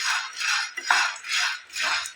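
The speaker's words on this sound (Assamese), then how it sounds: "অকণমান এইদৰে কেৰাহীখনতে লৰাই লওঁ।" Roasted chickpeas stirred in a kadai, a series of scraping sweeps with a spoon against the metal pan, close, in about four rhythmic strokes with light clinks between.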